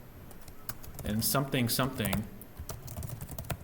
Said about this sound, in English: I'm just typing in some random stuff here